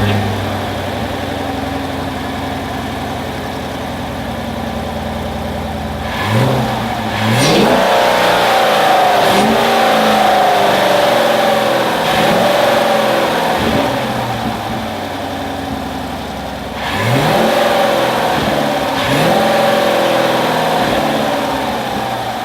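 2017 Chevy Camaro SS V8 with a K&N Blackhawk cold air intake idling, then blipped into two sharp revving bursts several seconds apart, loud and close with no talk.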